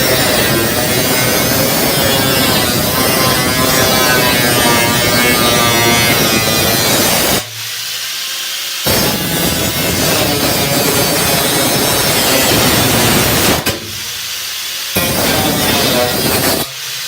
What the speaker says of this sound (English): The first pass kind of marked where I want to grind, and then I'll make about 3 more passes before it breaks through.